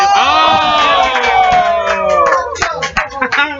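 Visitors in a crowd cheer loudly at a Super Smash Bros doubles grand final, high shouts and whoops sweeping across the room, breaking into scattered bursts toward the end, mixed with a commentator's voice.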